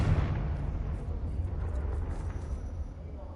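Spell explosions from Confringo and Bombarda curses in Hogwarts Legacy, heard as a loud, booming blast that opens the clip and then lingers as a dense, rumbling roar that slowly fades.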